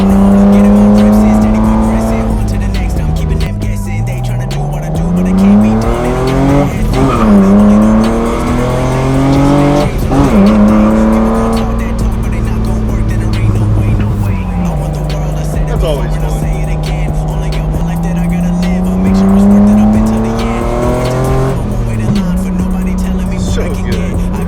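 A car driving with its engine revving up and down through repeated accelerations and gear changes, loud and close, heard as if from inside the vehicle, with an old school Kicker Solo-Baric 12 inch subwoofer system fitted.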